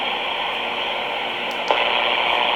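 A President Washington 10-meter mobile radio with its noise reduction circuitry, ANL and noise blanker engaged hisses with steady, loud static, broken by a brief click near the end.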